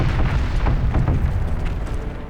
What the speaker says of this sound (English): there came one big crash. The whole weight of our artillery swept the Hun line